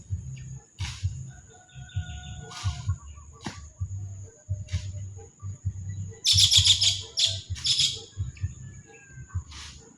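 Birds chirping around a farm in Bulacan, repeated bright tweets and calls near and far over a low rumbling background, with a dense burst of rapid chirps partway through.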